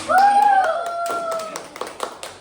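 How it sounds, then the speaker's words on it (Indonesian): After a teacher's voice, a classroom of students gives a short, scattered round of hand clapping, a few sharp claps trailing off quickly. "Boleh beri tepuk tangannya dulu?"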